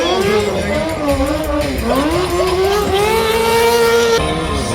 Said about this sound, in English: Still doing that rear wheel burning out. Still doing the drifting.